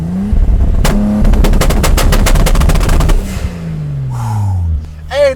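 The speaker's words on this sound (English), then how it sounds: "this blow-off valve sound good" A Toyota Supra revs hard with rapid machine-gun-like crackling bursts, then the engine note drops away in a falling whine as the blow-off valve vents, loud and close.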